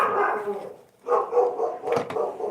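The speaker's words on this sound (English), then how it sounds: "Sorry about the dogs." Several dogs bark in short bursts, fairly close and fairly loud, heard indoors during quilt-making work with no talk over them.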